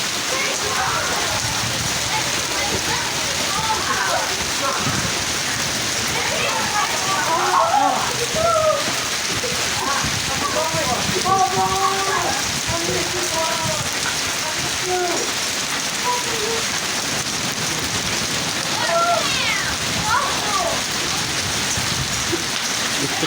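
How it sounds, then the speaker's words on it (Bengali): Heavy afternoon rain, mixed with hail, pours down over a green field in Calgary, making a dense, continuous wash of drops and splashes while a voice speaks over it. "সুন্দর বৃষ্টির শব্দ শুনছেন আপনারা"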